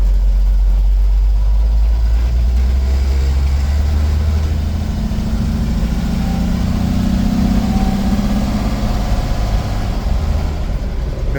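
The engine of a 1955 Ford F100 pickup truck rumbles steadily while driving, a continuous low, loud drone that swells slightly in pitch partway through, with no talking.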